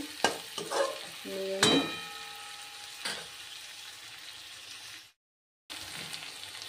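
Soybean chunks fry in a pan and are stirred with spices, giving close sizzling crackles and scraping stirs that fade off, followed by a brief silence before the frying resumes.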